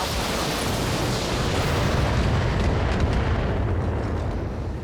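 Missile barrage explosions from a BattleTech mech battle, a continuous dense roar of overlapping blasts and rumbling impacts, loud and steady throughout without any talk.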